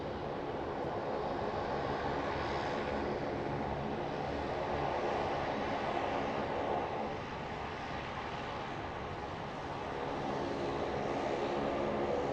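A Cessna 172 taking off from runway 34 left at Sydney Airport, its propeller engine a broad, steady drone heard from a distance with slight swells in loudness.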